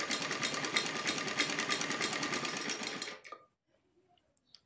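A sewing machine runs steadily, stitching a lined salwar with a fast, even whirring rattle for about three seconds before stopping abruptly, followed by faint handling sounds.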